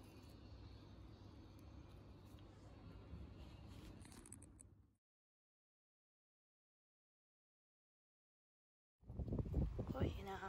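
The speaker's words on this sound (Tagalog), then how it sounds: "Hangin. Mahangin na yun." Wind gusting through a flower garden of gladiolas and dahlias, a steady rushing roar buffeting the microphone for about five seconds, then a stretch of silence before a loud burst of wind noise returns.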